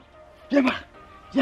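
A Siberian husky gives two short yipping barks about a second apart, close by, while a person speaks to it.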